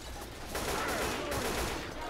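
Gunfire in the Left 4 Dead 2 Dead Center campaign, a burst of rapid shots that swells after a quiet start and holds loud and dense, with faint talk underneath.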